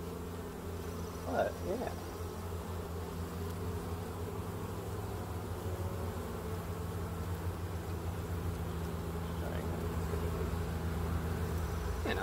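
Honey bees buzz steadily at an open hive during a summer inspection, a dense continuous drone close by throughout, with a brief word spoken over it.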